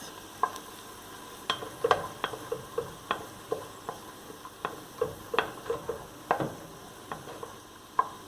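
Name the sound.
onions, scallion and garlic sautéing in melted butter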